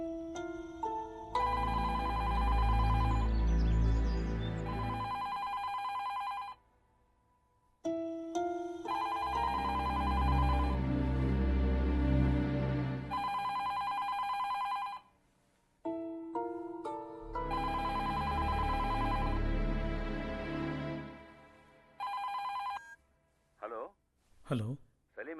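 A telephone ringtone plays in three long bursts of melodic ringing with short pauses between them, moderately loud and close, before a few last short tones.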